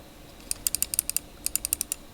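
Two quick runs of sharp button clicks from Logitech G502 and SteelSeries Rival 650 wireless gaming mice, about a dozen crisp taps in rapid rhythm, close and clear in an otherwise quiet room.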